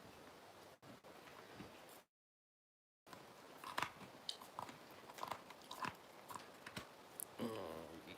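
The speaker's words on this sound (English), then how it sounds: "Here, I'm gonna hold it for you, and you're just gonna chew it." A husky gnaws on a rolled-up dried chew held for it, making faint, close, irregular crunches and clicking bites with a brief silent gap, and no talk over the chewing.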